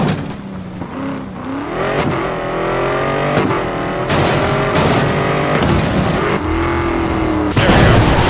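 Game car engines in Need for Speed Most Wanted rev and shift loudly and continuously, pitch sweeping up and down between gear changes, with sharp bangs and impacts breaking in near the end.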